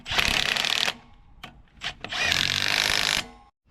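A power tool whirs in two loud bursts, with short buzzes between them, while bolts are torqued down on the front idlers of a Kubota skid steer.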